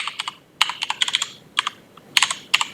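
Rapid keystrokes on a computer keyboard while entering a firewall command as root, clicking in irregular bursts of close, crisp taps with short pauses between groups.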